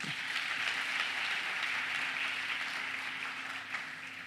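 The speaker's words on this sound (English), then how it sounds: "Another round of applause." An audience claps at a university's official welcome ceremony for first-time students, a steady, even wash of applause from a large hall that holds throughout and tapers slightly at the end.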